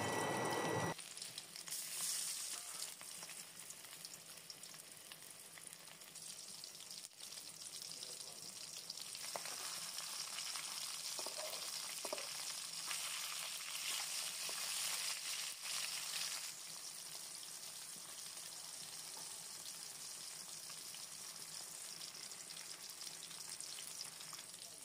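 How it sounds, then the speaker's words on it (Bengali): Fish frying together in hot oil in a wok, a steady, continuous sizzle that stays loud and even throughout, with no voices. "এবার কড়াইতে তেল দিয়ে এর মধ্যে মাছগুলোকে খুব ভালো মতো একসাথে ভেজে নেব।"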